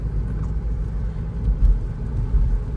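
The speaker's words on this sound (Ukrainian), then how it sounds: "Я трішки відпускаю педаль газу і вона перемикає на п'яту." A Peugeot 3008 or Nissan Qashqai with an automatic robotic gearbox cruises and shifts up into fifth as the throttle eases, its steady low engine and road rumble heard from inside the cabin, with no talk.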